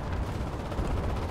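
Gunfire in the shooter game Enlisted, a dense, fairly faint burst of rapid shots and distant battle rumble blending together over a brief moment.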